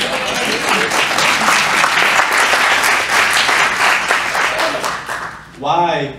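An audience at a community planning talk bursts into dense, sustained applause for several seconds. The clapping fades near the end and a voice speaks over the tail.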